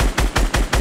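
Rapid automatic gunfire in the video game Fortnite, four sharp, loud shots in quick even succession, close and alone without talk.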